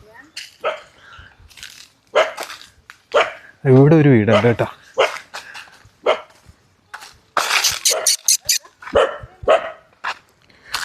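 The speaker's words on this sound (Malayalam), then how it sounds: "അവിടെ നമ്മുടെ പട്ടിക്കുട്ടന്മാരൊക്കെ നമ്മളെ കുരയ്ക്കുന്നു" Several dogs bark in short bursts, with one long harmonic whine or howl in the middle, while people talk over and between the barks nearby.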